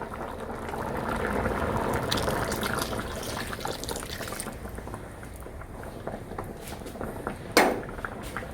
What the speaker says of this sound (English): Now towards this we are going to add this coconut milk and switch off the gas.